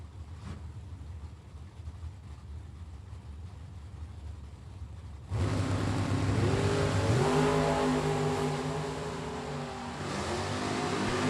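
Drag racing cars, an Oldsmobile and a Chevy Nova, launch loudly after a quieter rumbling idle and accelerate hard with rising engine pitch that shifts upward, heard from a short distance at the strip.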